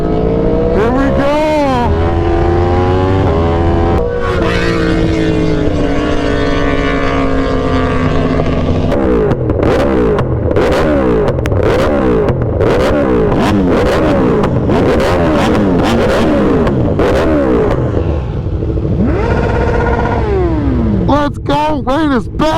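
A Yamaha R1M sportbike revs and accelerates hard, its engine climbing through rapid repeated gear-by-gear sweeps with sharp shifts, loud and close, with a few sharp pops near the end and voices shouting over it.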